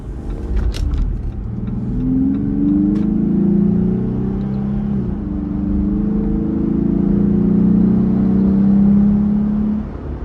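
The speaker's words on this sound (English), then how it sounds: "we're gonna accelerate a little harder on this road" A 2025 Jeep Gladiator on the stock exhaust accelerates hard along a road, its engine drone rising and holding loud and close for about ten seconds, with a brief light jingle near the start.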